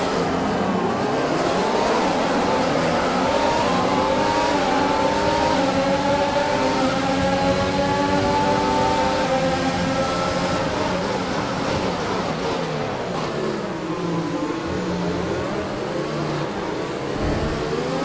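A Formula 1 race car in F1 2021, the video game, screams past with its new power unit, a loud continuous engine wail climbing and shifting in pitch as it revs and accelerates for the whole run.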